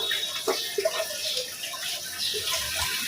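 Raw chicken gets a final rinse under running water, a steady splashing stream with sloshing and a few light knocks from handling in a basin, fairly close and with no talk.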